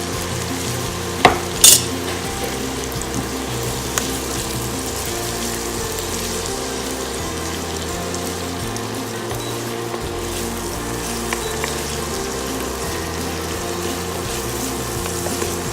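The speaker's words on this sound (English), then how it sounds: "We're gonna cook it here in the lard until these vegetables get nice and soft." Chopped garlic, onion and celery fry in lard in a skillet for chicken pot pie, a steady close sizzle throughout with a couple of sharp clatters of stirring near the start and no talk.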